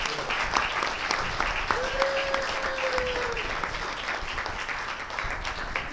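Audience applause after a presentation, loud and sustained clapping from a full room, with a brief whistle-like tone passing through the middle.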